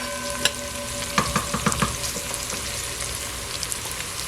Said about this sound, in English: You see how it's frying and it's not burning?